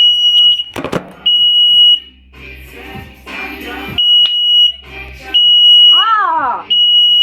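A home fire alarm shrills in loud, steady high-pitched bursts that cut out and restart several times, while a person talks and shouts in between and over it.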